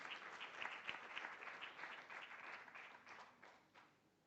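Applause from an audience at an arbitration event in Nairobi, dense steady clapping that holds for a few seconds and then gradually thins and fades.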